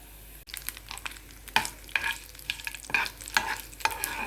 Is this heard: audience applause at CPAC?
no